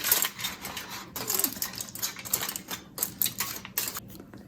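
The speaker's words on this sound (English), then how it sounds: "Now we're just gonna put the foil on top." Aluminium foil crinkling and rustling as it is pressed over a hot pan of buttermilk bread, bursts of crisp crackling close up, uneven in rhythm and steady throughout, with no voices.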